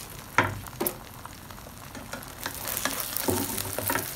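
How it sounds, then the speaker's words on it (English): An egg fries separately in a pan for pad thai topping, a soft nearby sizzle broken by a few sharp clicks and clatters of utensils. "so I fry separately."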